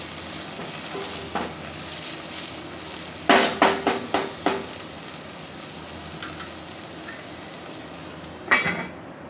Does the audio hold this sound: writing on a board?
no